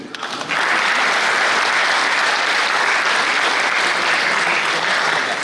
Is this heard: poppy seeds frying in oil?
no